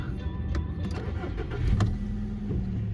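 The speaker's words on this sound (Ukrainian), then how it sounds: "Так, заведемо автомобільчик." A petrol 1.6 Volkswagen Golf 5 Plus with about 205,000 km on it starts up nearby. The engine fires up quickly and settles into a steady idle, with no talking over it.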